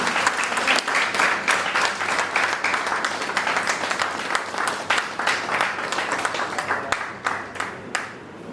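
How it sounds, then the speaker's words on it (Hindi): Enthusiastic audience applause at an anniversary literary honours ceremony, loud and steady with sharp clap bursts throughout for over eight seconds, no talk over it. "तो एक बार दोनों हाथ उठा के जोरदार तालियां।"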